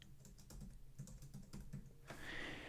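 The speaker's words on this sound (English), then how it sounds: "I'm going to click on here and type in at Detour Shirts" Quick keystrokes clatter on a computer keyboard in an irregular burst of close taps, then a brief pause before a final soft rustle; the room is quiet and no one speaks.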